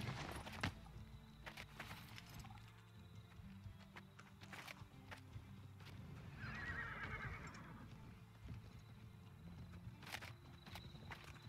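Cavalry horses in a video game battle neigh and whinny while hooves clip-clop and thud, amid a continuous low rumble of battlefield noise. The neigh stands out midway, fairly distant and faint.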